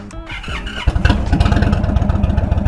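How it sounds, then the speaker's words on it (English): An Indian motorcycle engine that is hard to start cranks and then catches, settling into a loud, close, throbbing idle with a steady rhythmic pulse. "people think that the bike has some type of problem because it's hard to start up"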